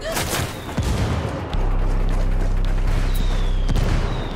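Sniper gunfire in the video game Ghost Recon Wildlands, a few sharp cracks early on followed by a dense, sustained roar of combat noise.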